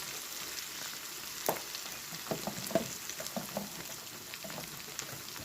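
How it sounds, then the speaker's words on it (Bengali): A spice mix with turmeric, chili and cumin powder fries in a pan, giving a soft, continuous sizzle broken by a few sharp scrapes and taps of stirring. "সাথে জিরা গুঁড়ো, এগুলো দিয়ে ভালো করে ভেজে নেবে।"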